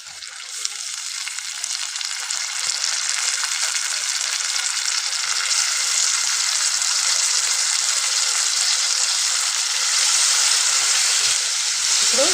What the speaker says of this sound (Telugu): ఇప్పుడు మనము కాకరకాయలు యాడ్ చేసుకోవాలి